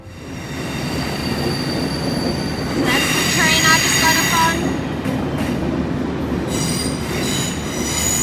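A train runs on rails on a long overnight trip to Beijing, with steady rolling rumble and rhythmic wheel noise, and high metallic squeals rising in bursts partway through.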